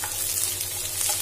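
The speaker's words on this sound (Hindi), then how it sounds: "अनियन को थोड़ा सा मैं लाइट ब्राउन होने दूंगी।" Chopped onions frying in a pan until light brown, giving a steady, soft sizzle with faint crackle and a low hum underneath, with no talking.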